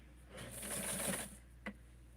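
A sewing machine stitches a wrap skirt for a Barbie doll, a short, faint burst of quick needle whirring lasting under a second, followed by a single small click, close and alone.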